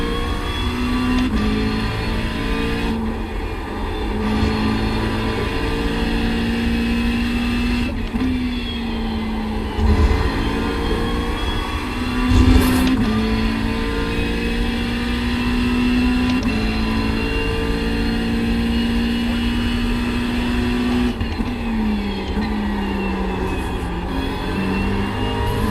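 A race car engine in the iRacing sim racing game drones steadily, revs climbing and dropping through upshifts and braking with occasional sharp bumps, heard alone throughout.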